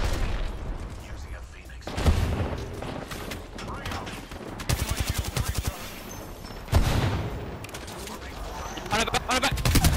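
Rapid bursts of automatic gunfire from an Apex Legends match crackle in repeated volleys, with voices talking over the shooting throughout.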